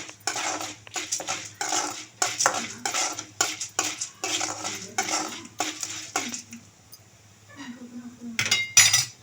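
Urad dal and peanuts or cashews fry in a pan for curry leaf rice while a metal spoon stirs them, making rapid, close clinking scrapes in bursts, followed by a quieter sizzle and a few final clanks.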